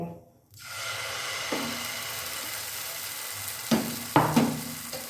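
Radish paratha batter hits an oiled pan with a steady sizzle and frying crackle. A few soft scraping clinks come near the end.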